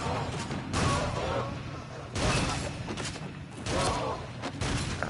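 Gunfire from the VR shooting game Rush of Blood comes in repeated loud bursts of rapid shots with heavy booming impacts. The bursts are separated by brief lulls.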